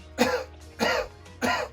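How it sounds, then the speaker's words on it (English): Three forceful coughs, close up, evenly spaced about half a second apart. "take air into your stomach, and then cough."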